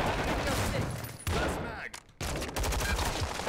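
Rapid hip-fired gunshots in Call of Duty Modern Warfare 2 crackle in dense bursts, broken by a brief lull and a reload-like gap before firing resumes close and loud.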